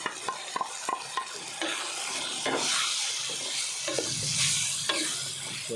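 Tomatoes being stirred into frying chicken with ginger in a pan, a steady sizzle with scraping spoon strokes, close and fairly loud, no voices.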